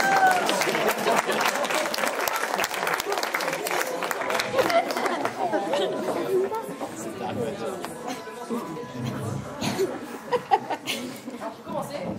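Cabaret audience applauding loudly and steadily throughout, a dense crowd clapping mixed with some chuckles and chatter.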